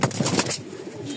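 Pigeons at a pigeon farm in Mirpur-1, Dhaka, where Lahore, Lokkha, racer and Bukhara birds are kept, give a few soft, close, throaty coos in quick succession, with no talking.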